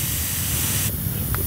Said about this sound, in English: I'm not gonna spray out stuff right now. Just wanna see my pressure.